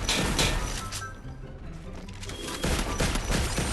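Bursts of rapid gunfire in the video game Free Fire crackle loudly at the start and end, with sharp shots and a dense mechanical clatter between them.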